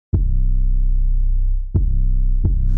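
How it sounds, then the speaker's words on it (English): Reason 9 beat with Pulverizer distortion on a parallel channel: loud booming bass hits with buzzy distorted harmonics, three heavy thumps with a sustained low tone between and a crisp hat at the end. "So I created a parallel channel and added some distortion."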